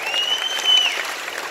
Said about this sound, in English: Give you guys a big round of applause.